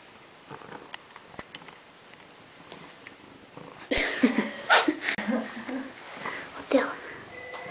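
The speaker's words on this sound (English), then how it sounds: "She's purring away." A cat purrs softly up close, a quiet rumbling broken by brief rustles and breathy snuffling sounds.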